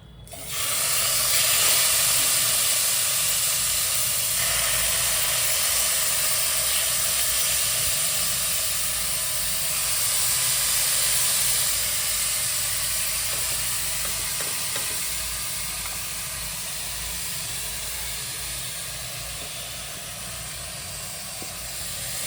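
Yogurt-marinated chicken for murg pulao frying in a pan over a high flame, producing a loud, continuous hiss and sizzle, close and steady throughout, gradually easing slightly in loudness, with no talking.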